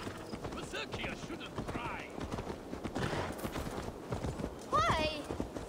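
Horse hooves clip-clopping in the video game Assassin's Creed Valhalla, a steady run of close hoof beats under game dialogue, with a short whinny near the end.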